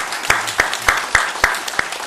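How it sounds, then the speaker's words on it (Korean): A church congregation during a Sunday service claps in encouragement for the choir, a brisk unison beat of sharp, regular claps about three per second over a softer bed of scattered clapping. "우리 격려의 박수 해드리겠습니다"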